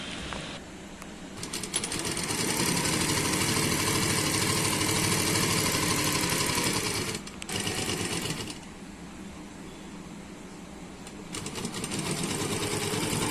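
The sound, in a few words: sewing machine stitching suit from sleeve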